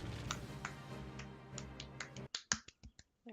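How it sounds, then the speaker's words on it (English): A run of sharp, crisp hand claps, faint at first under background noise, then louder and isolated near the end, in the video game Final Fantasy XIV. "clapping, just in case you don't hear."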